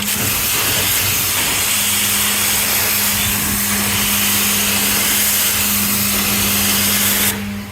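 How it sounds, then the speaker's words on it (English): Carpet steam cleaner blasting steam onto a makeup stain in carpet, a loud continuous hiss with a steady low hum running for about seven seconds before cutting off abruptly. "then I'm going to steam off what's loose and then start working on the rest"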